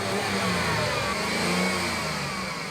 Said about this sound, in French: Ce petit moteur tirera sur le câble de l'accélérateur sur l'ordre de Jamie.